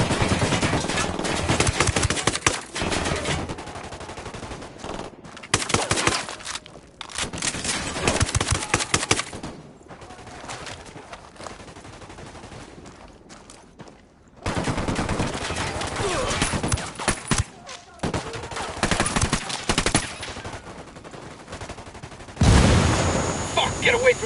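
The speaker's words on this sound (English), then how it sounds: "Say the word, boss. Opening fire." Bursts of rapid automatic gunfire and single shots in the video game Ghost Recon Wildlands, loud and repeated across the clip with brief pauses between volleys, while voices speak intermittently over the shooting.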